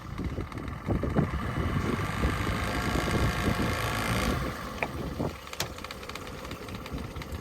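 A new Volvo Penta 5.7 inboard engine with outdrive on a 2003 SeaSport 2400XL boat idling just after starting, a steady close low rumble with a brief dip in level partway through.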